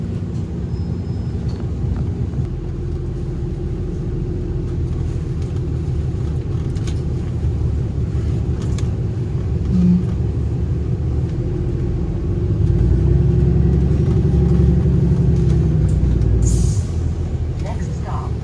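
A steady, loud engine rumble and road noise from inside a Toronto public transit express bus on the move, holding constant throughout with a slight swell near the end.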